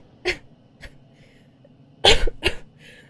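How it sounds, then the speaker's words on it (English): A character coughs in the horror video game Echoes Of Horror - Gold Rush Gals, one short cough then a faint one, followed by a louder burst of two harsh coughs, close and clear. "remember to cough periodically"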